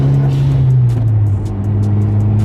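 A manual-transmission car engine revs steadily near 3,500 RPM, then the pitch drops as the gearbox shifts up into third. The engine drone is loud, continuous and close, with no talk over it.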